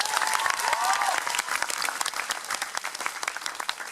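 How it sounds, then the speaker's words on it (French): An audience at an end-of-year party for a French TV series cast and crew bursts into sustained, dense applause, loud and close at first, then thinning into scattered claps. "Vous applaudissez."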